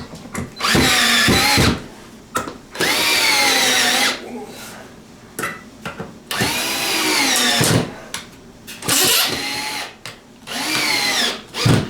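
A power drill drives a screw to mount a hanging dining light fixture, whirring close and loud in repeated bursts of rising and falling pitch, with short pauses and people talking between them.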